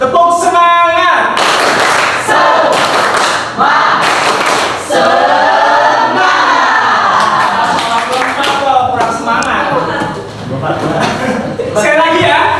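A group of high school students claps a rhythmic spirit clap in short bursts of rapid, loud clapping, led by a speaker talking over and between the rounds.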